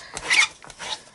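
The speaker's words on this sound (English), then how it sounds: "Now I'm just going to use my simple chamois to clean up my stamp." A chamois cloth rubbed over a rubber stamp to clean it, giving two short, soft scrubbing swipes, close and fairly quiet with no voice.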